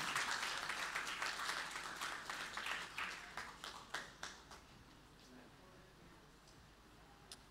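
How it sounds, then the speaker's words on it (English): Church congregation applauding a couple during a worship service: dense clapping at first that thins into scattered separate claps and fades out, with faint voices underneath. "Can we give a round of applause for Ivan and Tamar?"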